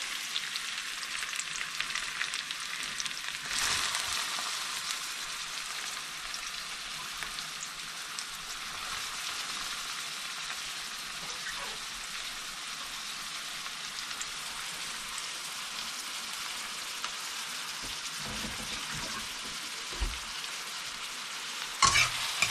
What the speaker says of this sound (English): Now what you do, you add in the onions.